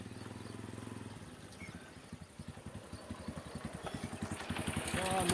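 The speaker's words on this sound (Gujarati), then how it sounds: "બાઈક ચાલુ થઈ ગયું." A motorcycle engine runs with a steady pulsing putter that quickens and grows louder toward the end, as if revving up.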